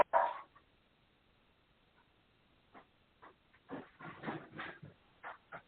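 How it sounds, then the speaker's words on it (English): A large 60-pound dog indoors gives a sharp loud bark, then goes quiet before a scattered series of fainter grumbling barks and snorts, heard at a distance in a quiet room. "you can hear the little butthole dog"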